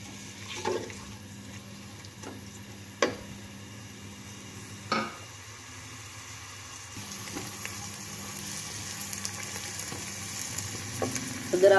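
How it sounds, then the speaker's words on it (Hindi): Chopped onions frying lightly in oil in a pan for an apple gourd (tinda) curry, a steady soft sizzle with a few sharp stirring clicks and scrapes, close and moderately quiet, no talking. "इसके अंदर अब हम प्याज डाल लेंगे। इसको लाइट सा हमने ब्राउन करना है"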